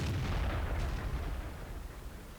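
A tank gun fires a blind shot in World of Tanks, a heavy booming blast at the start that rumbles and slowly fades away.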